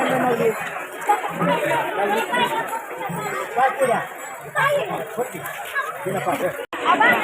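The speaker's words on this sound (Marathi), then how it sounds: "अशी गर्दी झाली बघा हो, इकडे भरपूर" Dense crowd of pilgrims at the Pandharpur temple, a steady close babble of many voices throughout with people calling out, dipping briefly near the end.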